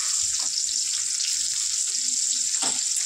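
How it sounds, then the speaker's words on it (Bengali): Cumin, bay leaf and onion fry in a hot kadai, giving a steady, close, hissing sizzle throughout with a few soft stirring clinks and no voices. "কড়াইটা গরম করে জিরে তেজপাতা আর পেঁয়াজ দিয়ে ভাজছি।"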